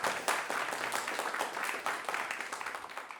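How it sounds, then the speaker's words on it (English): A conference audience claps for the organizers, a steady crowd applause of many hands at moderate distance, fairly quiet overall and tapering slightly after about three seconds. "clap for them"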